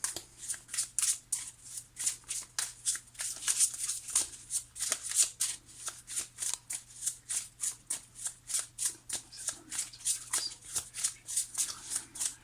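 Tarot cards are shuffled repeatedly in quick, rhythmic riffling bursts, crisp and close, with a faint steady hum underneath and no talking.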